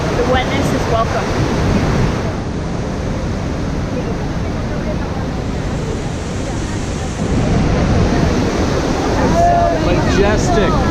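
Iguazú Falls on the Brazil side roars in a loud, continuous broadband wash of falling water and spray, heard close from a walkway with wind buffeting the microphone and faint voices underneath.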